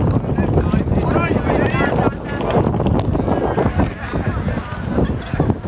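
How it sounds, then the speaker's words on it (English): Wind roars and buffets the microphone throughout at a high school baseball game, with a crowd and distant noise faintly beneath it. "The sound you hear is wind."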